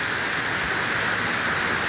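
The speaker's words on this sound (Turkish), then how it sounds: "Ne yağmur yağıyor." Steady, dense roar of heavy rain pouring down in Muğla, Turkey, constant and loud with no pauses or voices.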